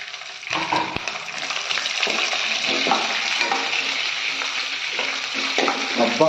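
Green chillies and dried red chillies crackle and sizzle loudly in hot oil tempering for tamarind pulihora, a steady dense frying hiss close up with no talk.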